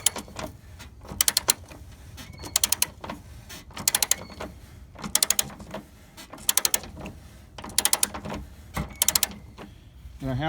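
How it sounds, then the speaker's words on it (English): A torque wrench clicks in short quick bursts of two to four clicks while strut bolts are tightened on a 2004 Toyota Sienna, repeating about every second and a half with brief ratcheting between them. "now I'm just torquing them down. You can hear that."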